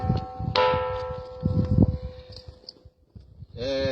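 The bell-like Pedra do Sino rock is struck, giving a ringing bell tone that fades out. Knocking and shuffling sounds follow, then another sharp, close strike rings out near the end.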